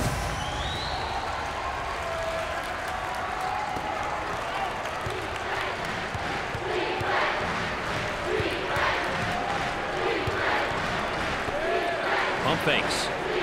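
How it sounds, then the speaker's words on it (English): Basketball fans in a tournament arena cheering and applauding, a steady roaring crowd with clapping throughout, under an announcer's play-by-play commentary. "Number one has got the fans roaring in applause."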